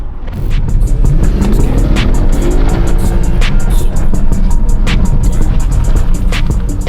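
A BMW, a one-off $225,000 car, accelerates at full throttle, its engine roaring loud and close as the pitch climbs steadily through the run.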